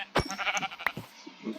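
Sheep in a modded survival video game give a few short, nasal bleats at close range, separated by brief pauses over quiet background.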